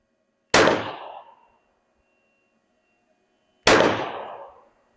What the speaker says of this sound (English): slide lock back on that last shot